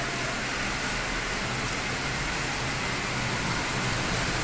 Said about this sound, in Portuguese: Teve mais uns trovões e agora está chovendo.